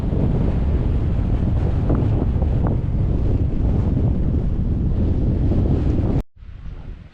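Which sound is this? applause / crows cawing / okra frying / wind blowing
wind blowing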